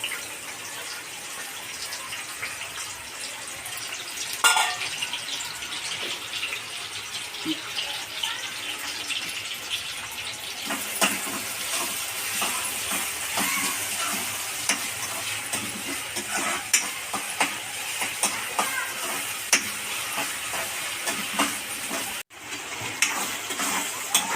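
Onion fries in oil in a wok with a sustained bright sizzle that swells partway through, with occasional stirring clanks and scrapes against the pan.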